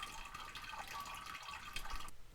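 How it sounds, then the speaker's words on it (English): A character in the survival video game No One Survived takes a slurp of water, heard as a short burst of watery dripping and splashing, like liquid from a tap, that runs steadily and stands alone without any voice. "Drink one more slurp of water, I suppose."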